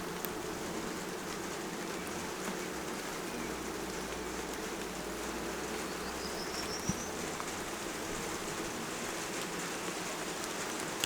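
Light rain starting to fall outdoors beside an open honeybee hive, a steady soft patter with faint insect buzzing throughout and a brief tap near the middle.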